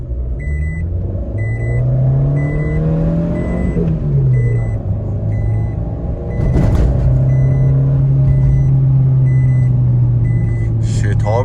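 Car fitted with a turbo fan accelerating hard from standstill toward 180, its engine note climbing steadily, dropping at a gear change, then holding a loud sustained drone from inside the cabin.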